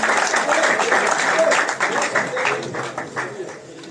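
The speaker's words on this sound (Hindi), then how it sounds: "जोरदार तालियों से स्वागत।" Villagers at a rural campaign event in Haryana clap loudly to welcome a guest being garlanded, a dense burst of applause that gradually thins and fades.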